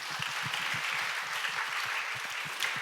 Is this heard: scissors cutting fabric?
no